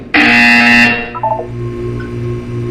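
The Portal 2 video game sounds a buzzer: a loud, harsh electronic buzz lasting under a second, followed by a few short descending electronic tones and a low hum, with no voices.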